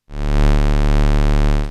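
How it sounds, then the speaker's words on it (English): One sustained, hollow square-wave bass note from a Moog Sub Phatty synthesizer sub oscillator, steady and weighty, holding for under two seconds before stopping. "which basically just follows oscillator 1 and it's a square wave."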